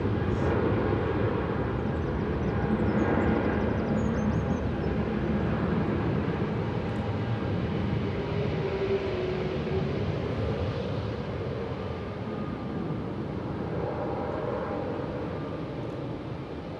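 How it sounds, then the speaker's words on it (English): An EasyJet jet airliner departs Manchester Airport for Antalya, its engine rumble a steady, moderately loud wash that slowly fades toward the end, with faint wind noise on the microphone. "Here's an HT departing there to Antalya for EasyJet with flight 2141."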